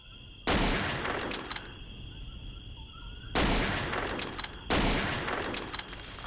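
Gunfire in the video game Jurassic Park Hunter Legends, fired while hunting dinosaurs at night on Isla Sorna: three loud, sharp blasts at spaced intervals, each followed by a long ringing decay, with no talk over them.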